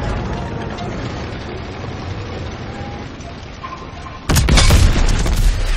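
An enemy tank is destroyed in Call of Duty WWII by a sudden loud, booming explosion that breaks through a continuous rumble of battlefield noise and lingers as a rough roar.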